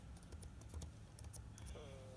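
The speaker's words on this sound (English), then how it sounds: "I'm just going to type in, this is a test note," Computer keyboard typing, quick light clicks in an uneven rhythm, faint and close, over low background hum.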